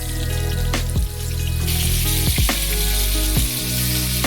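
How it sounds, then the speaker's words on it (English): Coral fish sizzles and crackles steadily in a hot pan, a constant bright hiss with a few soft clanks and shifts along the way. "I'm gonna fry the fish one side for around 2 minutes."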